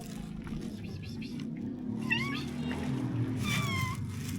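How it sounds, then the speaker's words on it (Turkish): A cat meows several times in short, rising calls near ruins at Hattusa, over a steady low background hum. "Uy, ne güzel miyavlıyorsun"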